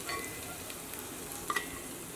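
Pepper chicken fry hissing steadily in a pan as curry leaves are stirred in, with a soft continuous sizzle and a couple of faint scrapes from the stirring.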